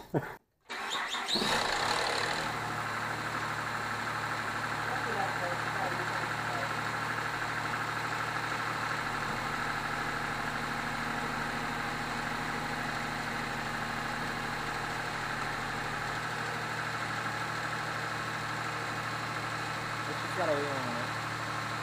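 A 2005 Mazda6 engine cranks and catches after a camshaft position sensor replacement, then settles into a steady, even idle that runs on loudly and close up for the rest of the stretch.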